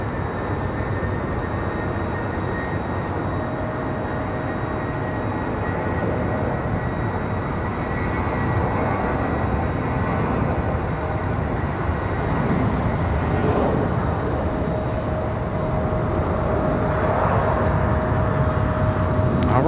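An American Airlines Airbus A319 arriving from Chicago on approach to land at Raleigh-Durham International, a steady broad engine roar with a faint high whine that holds loud throughout and swells slightly toward the end.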